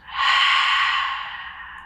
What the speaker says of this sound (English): Take a deep breath out.